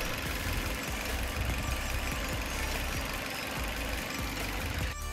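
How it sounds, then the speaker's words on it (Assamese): A Maruti Suzuki Ignis petrol engine idles steadily close by, a smooth continuous rumble with a faint rhythmic knock, uninterrupted throughout. "সব খুব স্মুথ সাউন্ড হৈ আছে একদম পেট্ৰল ইঞ্জিন ধুনিয়া হৈ আছে"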